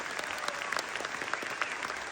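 Audience at a concert in Ganja applauding, a dense stream of hand claps heard from within the crowd, steady and moderately loud for the whole stretch.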